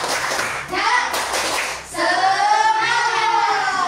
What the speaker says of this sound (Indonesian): ditambah lagi tepuk semangat